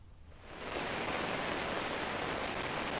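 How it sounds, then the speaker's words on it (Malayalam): Heavy rain falling steadily in Kochi, a dense, even hiss that swells in over the first half second and then holds constant and fairly loud with no voices. "ശക്തമായി മഴ ഇപ്പോഴും തന്നെ തുടരുന്നു."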